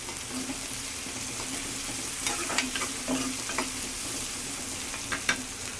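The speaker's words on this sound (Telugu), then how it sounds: "కొంచెం సాల్ట్ అయితే వేద్దాము ఆనియన్స్ త్వరగా వేగటానికి" Sliced onions and four green chillies fry with a pinch of salt, a steady close sizzle broken by several sharp scraping stirs of the spatula against the pan.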